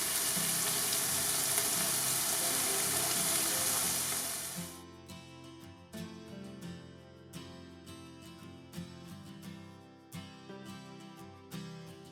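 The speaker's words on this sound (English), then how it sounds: "we're going to put some of our onions in. And start cooking those up." Onions frying on a Lidl mini kamado grill, loud dense sizzling at first that drops after a few seconds to a quieter crackle with sharp clicks and scrapes of stirring.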